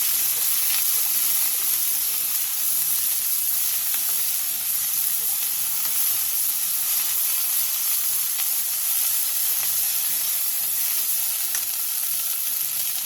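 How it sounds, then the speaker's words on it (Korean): Chives and salt are stir-fried over high heat in an oiled pan, giving a loud, continuous sizzle with steady hiss and occasional stirring scrapes, with no voices. "팬에 기름을 두른 뒤 부추와 소금 3분의 1스푼을 넣고 부추의 숨이 반 정도 죽을 때까지 센 불에서 볶아주세요."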